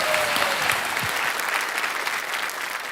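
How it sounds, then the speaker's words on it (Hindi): An audience breaks into loud, continuous clapping to welcome Phool Basan on stage. It is a dense wash of applause that holds steady for the whole stretch, with no one talking over it. "एक बार फिर तालियों के साथ इनका अभिनंदन करते हैं।"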